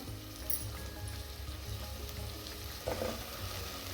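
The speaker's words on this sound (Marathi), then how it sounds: "बटाटा हलवून घेऊ आपण" Faint, steady frying in a pan while potatoes are stirred for vegetable pulao, a low sizzle with a soft scrape or clatter near the three-second mark, no voices.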